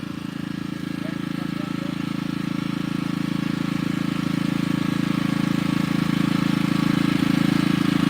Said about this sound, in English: It's a good engine.